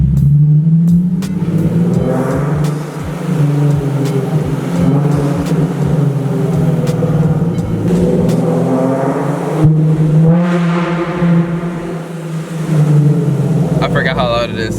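A modified Nissan 370Z exhaust revs loudly inside a parking garage, its engine note rising and falling in repeated swells that echo off the concrete, with voices talking over it.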